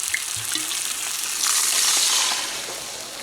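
Dry white wine hits a hot pan with a bright, steady sizzle that swells and hisses louder midway as the liquid deglazes the pan, with no voices over it.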